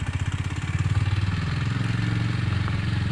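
A Kawasaki W230 motorcycle rides along with a pulsing, throbbing single-cylinder engine note, close and steady at medium speed, with no talking.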